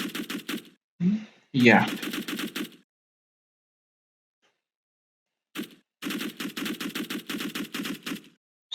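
Rapid automatic gunfire from a character's weapon in an Unreal Engine first-person shooter game, heard as loud, dense bursts of shots, with a long silent gap between them and a brief spoken word.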